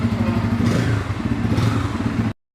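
A 2024 Bajaj Pulsar N250 motorcycle with dual exhaust idles close by, its engine a steady, throbbing low rumble with light mechanical clatter, cutting off abruptly into silence just before the end.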